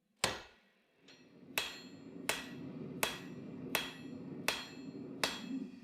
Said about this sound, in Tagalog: pinupukpok ko ito sa ibabaw ng sungay